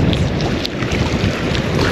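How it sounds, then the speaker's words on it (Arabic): Strong winter wind buffets the microphone in a continuous low roar, gusting slightly, with no voices. "كاين الريح الجو ديال الشتا كاين الريح"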